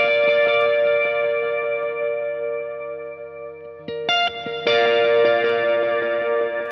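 Electric guitar lead line from a worship song, soaked in delay, reverb and drive, sustained notes ringing with long echo tails, then a fresh louder phrase entering near the end.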